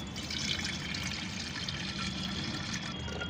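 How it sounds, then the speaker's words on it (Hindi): Water poured from a one-litre measure into a clay pot, a steady close splashing trickle running unbroken throughout with no voices. "1 लीटर पानी इसमें हमें डाल देना है"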